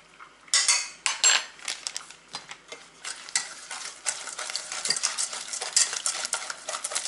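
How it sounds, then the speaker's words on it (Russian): A spoon stirs baking batter containing vanilla and baking soda in a bowl, producing close, uneven scraping and clinking strokes in a quiet home kitchen. "я просто размешиваю"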